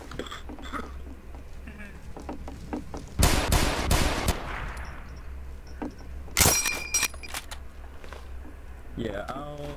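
Bursts of gunfire in the World War II shooter game RC 1944: a heavy, loud volley around the middle, then a second sharp burst, with quieter shots and clatter between and faint voices in the background.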